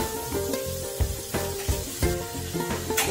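Chicken pieces sizzle loudly in a pan with garlic and ginger, a dense steady frying hiss broken by regular clattering stirs of a spoon against the pan, close and without talk.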